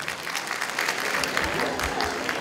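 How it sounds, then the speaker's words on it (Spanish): Audience applause for a young girl performer at a stage show, a steady sustained clapping from a crowd with no break for about two and a half seconds. "¡Venga el aplauso!"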